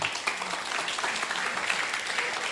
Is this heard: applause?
yes